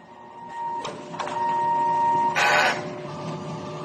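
A DTF printer runs a heat clean of its print head, a steady mechanical hum with a couple of sharp clicks and a brief louder whirring burst partway through, alone without talk.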